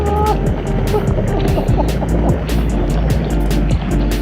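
Loud ocean water surges and churns around a wader's legs at close range, a dense continuous roar with splashy bursts and no talking.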